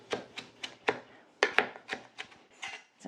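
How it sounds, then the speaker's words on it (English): A knife chops through a whole bunch of fresh parsley on a cutting board for tabbouleh, a dozen or so close, crisp strokes in an uneven rhythm, the blade thudding on the board. "And we're going to chop this."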